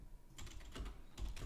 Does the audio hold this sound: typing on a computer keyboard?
yes